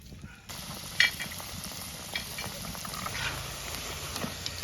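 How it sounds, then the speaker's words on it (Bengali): Meat kuli fritters frying in hot oil in a heated wok give a steady, close hissing sizzle, with a brief sharp clatter near the start and gentle bubbling throughout. "এখন মাংস কুলিটি দিয়ে দেবো"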